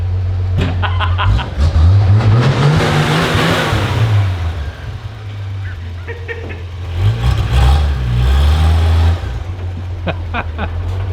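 A homemade vehicle built from a kit, with a timber seat, drives past with a loud, low mid-range engine drone that rises and falls as it accelerates and then slows to a stop, while voices talk faintly over it.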